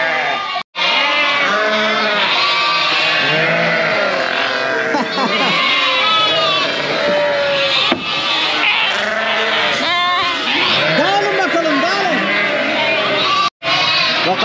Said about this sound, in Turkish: Kuzulu koyunlar dolusunlar buraya.